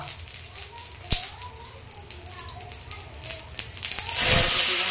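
Cut papaya for chutney goes into hot oil with mustard seeds in a kadai, giving a soft sizzle with sharp crackles and pops, and a loud hissing burst near the end. A person talks over it.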